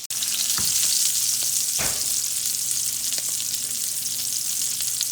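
Salmon skin fries in a pan with a loud, steady sizzle and crackle, close by, broken by a few faint clinks.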